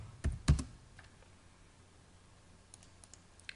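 A few quick keystrokes on a computer keyboard while entering a command in AutoCAD Civil 3D, a cluster of close, crisp clicks near the start and then faint scattered taps in a quiet room.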